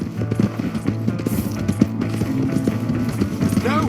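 A horse in the game Red Dead Redemption gallops in a steady run of hoof clip-clops over a low rumbling game soundscape, with a short voice-like sound near the end.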